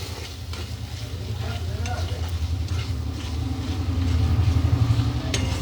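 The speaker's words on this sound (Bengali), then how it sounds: "মশলাটা ভালো করে ভাজা হয়ে গেছে, তেল ছেড়ে দিয়েছে।" Spice masala with a little chili powder sizzles steadily in oil in a pan while being stirred, for a prawn malai curry; the frying hiss is continuous and close, with scraping stirs.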